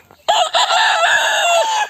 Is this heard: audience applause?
no